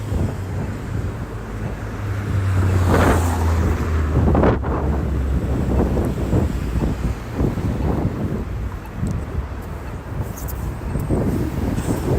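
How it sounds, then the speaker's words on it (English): Strong wind buffets the microphone continuously on a very windy evening outdoors, a loud rumbling roar with gusty surges and no voices. "it is a very windy final evening"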